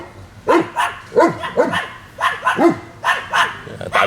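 Two guard dogs bark close by in quick repeated pairs, about eight sharp, loud woofs spaced by short pauses, with no voices.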